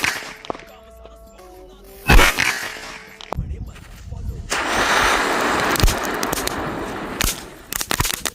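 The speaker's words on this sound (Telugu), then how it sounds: "సూపర్ ఫాస్ట్ గా పేలిపోతున్నాయి క్రాకర్స్ అయితే." Firecrackers set off by sunlight focused through a magnifying lens, tied to a stand outdoors, give several sharp cracks and pops at irregular intervals, with a longer burst of crackling fizz in the middle.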